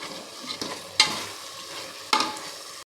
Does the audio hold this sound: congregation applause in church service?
no